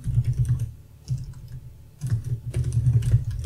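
Close, quick bursts of typing on a computer keyboard as a project library name is entered in DaVinci Resolve, soft clustered key taps with a short pause between runs.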